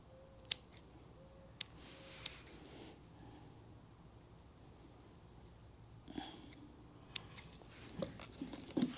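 Scissors snip tape around the throttle of a Kaabo Wolf King GT electric scooter, a few sharp, close, quiet clicks spaced apart over soft handling noise.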